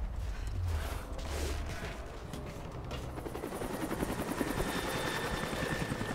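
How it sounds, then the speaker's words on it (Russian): A helicopter in the video game Rise of the Tomb Raider gives a loud, continuous rotor chop with a rhythmic thumping beat and mechanical whine, close and sustained without talk. "Русский вертолет какой-то еще."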